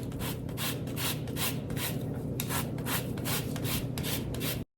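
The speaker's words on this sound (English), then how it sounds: "you want to zest you about a teaspoon of lemon zest, fresh lemon zest" Steady zesting of a fresh lemon by hand, the peel scraped over a grater in a continuous, close, fairly loud rasp that swells in regular strokes for almost five seconds and then stops abruptly, with no talking.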